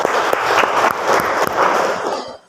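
Students in a classroom applaud a classmate who has just finished presenting, a brief burst of lively clapping from a small group that fades out at the end.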